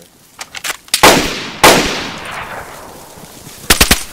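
Gunfire in the DayZ video game, with several loud sharp shots and quick bursts ringing out over a few seconds, each trailing off in a decaying echo.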